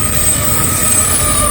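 Freight train with double distributed power units rolls past close by, a loud steady rumble of engines and wheels holding throughout with a faint metallic squeal above it.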